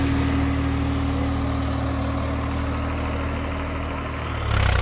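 A Swaraj 855 4x4 tractor engine runs in low fourth gear, a loud, steady diesel drone with a low hum held throughout and a brief rise in level at the very end.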